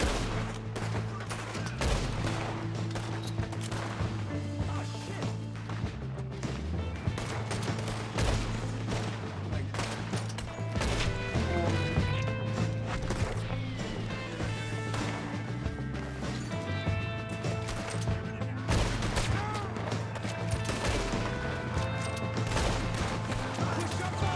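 Gunfire in the Red Dead Redemption video game, a dense, continuous fusillade of overlapping shots lasting throughout, mixed with a steady musical score underneath.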